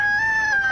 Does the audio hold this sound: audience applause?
no